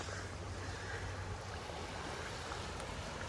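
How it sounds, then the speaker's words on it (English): A high, fast-flowing river rushes as a steady, dense broadband roar with no break and no voices, close and constant the whole way through. "river's flowing fast, ain't it?"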